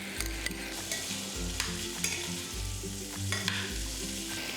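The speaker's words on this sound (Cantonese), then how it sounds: "落蒜片爆香炒勻" Sliced garlic being stir-fried with pork belly in a hot pan, continuous sizzling with repeated scraping strokes of a spatula every second or so, close up, no talking.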